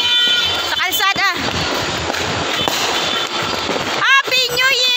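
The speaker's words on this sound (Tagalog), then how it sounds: "Titignan natin yung fireworks sa labasan." New Year's fireworks burst outdoors along a dark street, repeated crackling pops and whistling rockets rising and fading at a middle distance, with people talking close by throughout.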